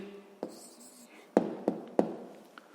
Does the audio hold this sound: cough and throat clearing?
no